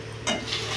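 A homemade snack fries in hot oil in a home kitchen and is turned over with a utensil, giving a steady sizzle and a short scraping stir partway through.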